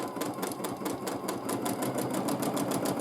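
A sewing machine runs steadily through free motion quilting of dense back-and-forth lines, its rapid needle strokes forming an even, continuous rhythmic chatter close by.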